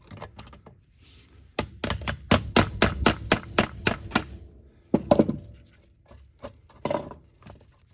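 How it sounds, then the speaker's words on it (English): A series of sharp metallic hammer taps, about a dozen in a steady rhythm, then a pause and a few more scattered strikes, close by, as a part is tapped out during a Troy-Bilt TB25 teardown. "we're just gonna tap it out with a hammer"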